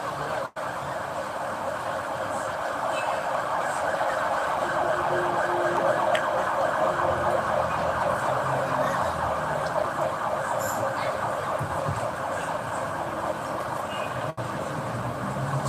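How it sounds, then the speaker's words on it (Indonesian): An ambulance siren wails continuously and loudly for the whole stretch as it passes through road traffic, with engine rumble underneath. "kita hormati ambulan"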